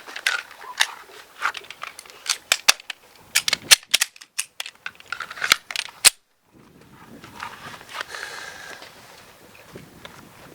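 Pistol rounds fired on an outdoor shooting range during a defensive pistol class, a rapid series of sharp, loud cracks in irregular bursts, followed by quieter handling and shuffling noises.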